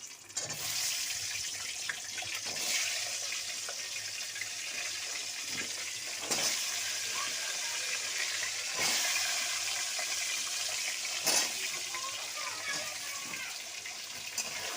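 Potato pieces sliding into hot cooking oil seasoned with a pinch of turmeric, giving a steady, close hissing sizzle that runs throughout, with a few brief louder bursts of crackle.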